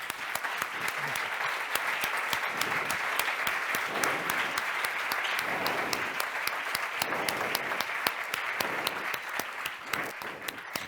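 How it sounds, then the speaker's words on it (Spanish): Steady, dense applause from a large audience at a poetry event fills the room for about ten seconds at an even, sustained level, with no voices standing out. "Lo de aplaudir cuando uno está confesando o diciendo estas cosas"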